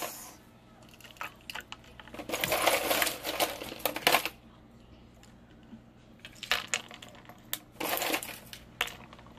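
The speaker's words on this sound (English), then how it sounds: "And then the ice" Ice cubes clatter and crunch into a homemade green tea boba drink, loud rattling bursts in two clusters, close by, with no talking.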